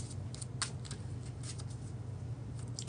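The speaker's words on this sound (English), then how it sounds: "I'm going to start shuffling for the last half of the reading" Tarot cards being shuffled by hand, soft papery riffles and slides in quick irregular bursts, faint and close against a low room hum, with no talking.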